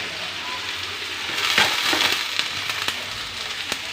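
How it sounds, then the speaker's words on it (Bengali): Potatoes frying in a pan for a breakfast aloo bhaji, giving a steady, close broadband sizzle with scattered crackles and a few sharp clinks or stirring knocks near the middle, no voices. "তারপর আলু ভাজিটা বসিয়ে দিয়েছি"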